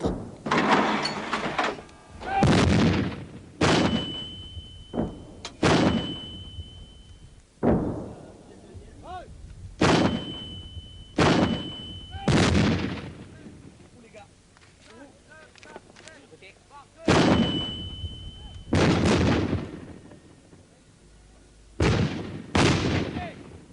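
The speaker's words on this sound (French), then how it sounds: "nos unités s'entraînent au tir des Milan, canons de 105 mm et mortiers de 120 mm" Heavy weapons fire from Milan anti-tank missiles, 105 mm cannons and 120 mm mortars in a series of loud booming blasts, several in quick succession, each echoing and rolling off into the distance.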